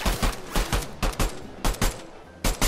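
Rapid bursts of pistol fire ring out in a Fortnite match, about a dozen sharp close shots in quick uneven clusters with brief gaps between volleys.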